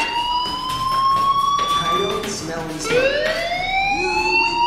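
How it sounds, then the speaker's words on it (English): A fire alarm siren wails in the Life is Strange video game, loud rising and falling electronic tones sweeping up repeatedly and continuously over a low background murmur. "Hey, do you hear that fire alarm? That means you should be outside."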